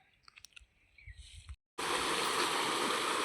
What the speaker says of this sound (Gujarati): પાણી ચાલુ કરી દીધું છે અને ટોકું ભરાઈ રહ્યું